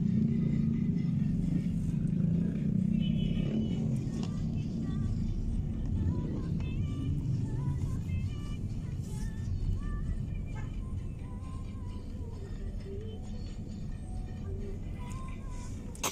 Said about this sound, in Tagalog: Traffic kami dito eh.